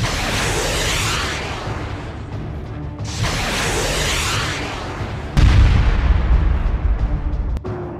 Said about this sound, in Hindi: एक बार फिर लेबनान से खतरनाक रॉकेटों ने इजरायली बेस को धमाकों से हिला डाला।